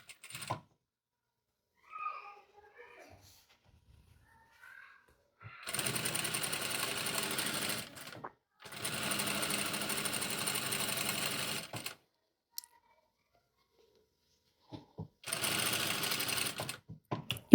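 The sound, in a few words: sewing machine stitching a tank top seam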